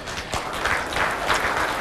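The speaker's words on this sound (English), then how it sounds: "Spectators are clapping." Spectators applaud at an indoor lawn bowls championship semi-final, a steady patter of clapping filling the hall for the full stretch, moderately loud and without speech over it.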